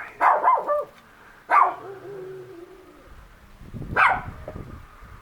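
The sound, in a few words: neighbor's dog barking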